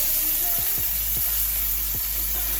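Chopped onions and mushrooms searing in a hot pan while cooking burgers, a steady loud sizzle with a few soft scraping stirs on top, close and with no talking.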